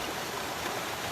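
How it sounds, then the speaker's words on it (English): Small stream spilling over a little waterfall into a pool roughly three to four feet deep, a steady close broadband rush of flowing water with no talk. "Right down there is a little waterfall, and it gets to like 3 or 4 feet deep."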